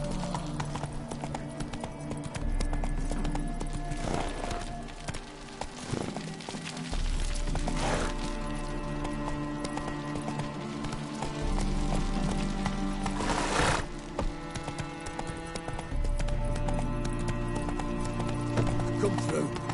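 Horse hooves gallop in a steady clip-clop rhythm in The Witcher 3 video game, with the gait repeating at a fast, even pace. Game music and some talk sit under the hoofbeats.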